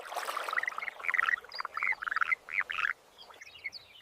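Male frogs chirping in a rapid series of short, bright calls, fairly close and clear against a quiet background, with the notes coming in quick pulses before trailing off.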